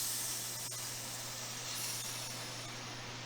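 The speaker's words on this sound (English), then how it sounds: "A little oil in the pan. A little sizzle." Local seafood sizzles in a little oil in a pan, a soft, steady frying hiss that holds evenly through the short clip with no talking over it.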